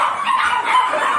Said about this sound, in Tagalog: Medyo maingay lang guys kasi maraming aso.